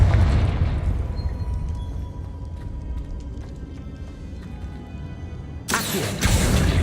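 A Confringo fire spell explodes in Hogwarts Legacy on PC: a deep rumbling boom that slowly fades, then a sudden bright crackling burst near the end.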